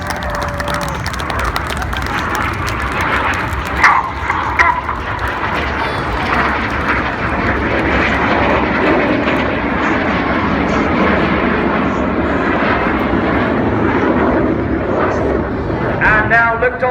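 RAF Red Arrows Synchro pair jets fly double rolls at an air display. Their loud, continuous engine roar fills the air over a crowd, with a commentator speaking over the public address.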